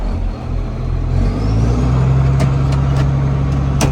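A tractor engine runs steadily with the PTO engaged for hay cutting, a loud constant drone with a firm low hum that settles in after a slight rise, plus occasional sharp clicks.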